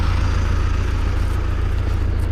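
A pumpkin threshing machine starts up on a farm during the harvest, its engine giving a steady, loud, close low rumble throughout, with no voices.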